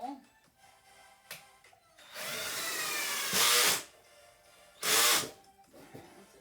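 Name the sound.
power drill driving screw into pre-drilled hole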